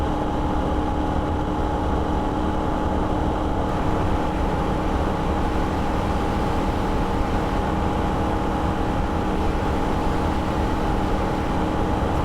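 A Holden VF Ute engine runs at wide open throttle on the Nürburgring, a loud, continuous droning roar that holds steady for several seconds with no talk.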